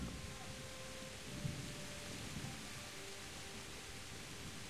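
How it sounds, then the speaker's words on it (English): Steady, fairly faint rain hiss with low rumbles of distant thunder rolling underneath in the video game Kingdom Come: Deliverance, no voices. "not bad rain effects"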